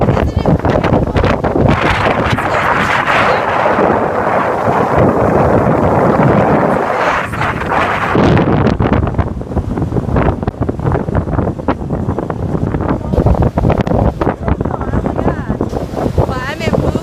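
Wind buffets the microphone heavily while Atlantic Ocean surf washes in on a Florida beach, a loud continuous roar that shifts partway through.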